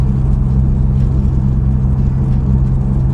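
Honda Civic tuned to 400 horsepower rolling on extreme summer tires (Nitto NT555R) over very noisy, cleared winter pavement, giving a steady, loud low road roar and engine drone throughout with no break.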